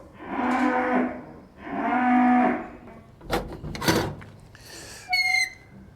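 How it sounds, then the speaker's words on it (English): Cows moo twice in long, low, drawn-out calls in a barn, followed by clattering knocks and a high squeak, close and echoing in the enclosed space. "there was a lot of mooing. A lot of mooing."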